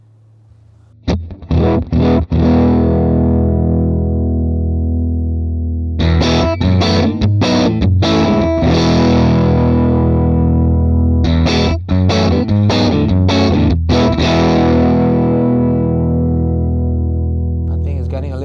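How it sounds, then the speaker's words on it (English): Distorted electric guitar played through a Valeton GP-200 with heavy gain, several loud chords ringing out and decaying, then a second burst of strummed chords. "I like to push the gain of the amp a little bit more"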